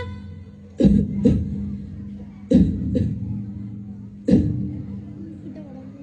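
Several harsh coughs ring out in short bursts, a pair, then another pair, then one more, with quiet murmuring between them.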